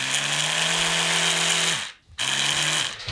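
An expensive electric toothbrush runs with a loud, steady buzzing hum, cuts out briefly and restarts, close to the listener.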